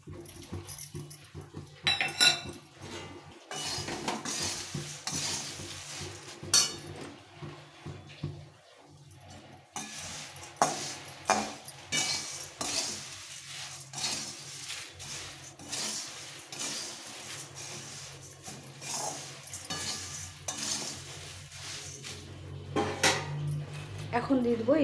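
Puffed rice with amchur powder and fried peanuts is stirred in a pan, a spoon scraping and clattering against metal in uneven bursts, with faint background noise between strokes.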